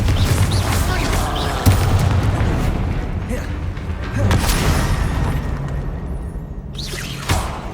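Combat spells crash and boom in Hogwarts Legacy gameplay, with a loud steady roar of blasts and several sharp bursts, while a voice calls out the spell names.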